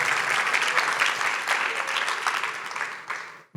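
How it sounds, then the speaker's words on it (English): Applause from a town hall meeting audience, a dense steady wash of many hands clapping at moderate distance, holding evenly before tapering off abruptly near the end. "applause, yeah."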